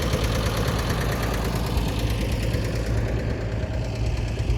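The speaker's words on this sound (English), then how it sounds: "There's a nice diesel farm all there idling." A Farmall tractor's gas engine idles at an outdoor spring auction, a steady close chugging rumble with an even rapid pulse and no voices.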